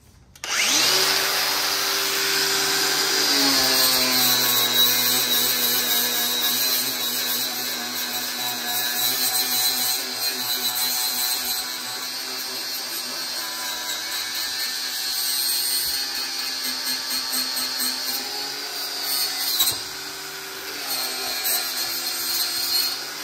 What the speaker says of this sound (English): It's actually on this grinder. So I'll set you up on a stand, and this thing cleans up metal really nice